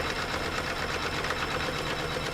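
A sewing machine stitches through quilting fabric and wadding with a steady, continuous mechanical whir and fast needle rhythm, close and moderately loud, with no talk.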